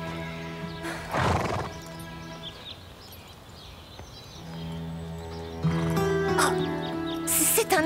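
A horse neighs loudly among hoofbeats and clip-clop, with a second whinny near the end and some background activity, in the cartoon series Grand Galop.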